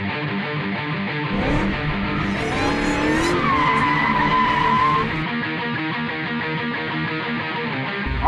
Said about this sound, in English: At the signal, all 3 drivers will floorboard it